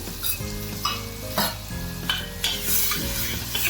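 Brinjal curry gravy seasoned with turmeric and salt being stirred in a hot pan, with a soft steady sizzle and several sharp scraping strokes of a spoon against the metal, close and alone without voices.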